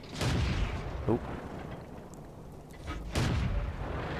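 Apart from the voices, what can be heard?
artillery fire in World of Tanks video game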